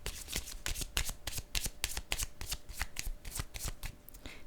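Tarot cards shuffled and set down in quick, crisp riffling bursts, repeated steadily and close up with no voices.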